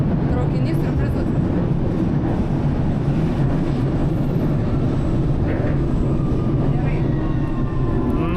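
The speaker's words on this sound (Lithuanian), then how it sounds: "metro traukinį, kurio neparašyta kokia linija" Steady, loud rumble of a London Underground metro train while riding inside a carriage, with continuous low roar and rattling throughout.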